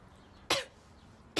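A single person coughs twice, a short sharp cough near the start and another at the end, close and fairly loud against a quiet room.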